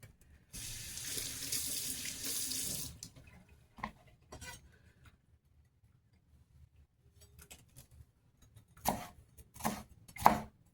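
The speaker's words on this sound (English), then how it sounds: "Rinse it real quick." Tap water runs steadily for a few seconds while a red pepper is rinsed at a kitchen sink, followed by several short knocks and clatters of handling at the counter.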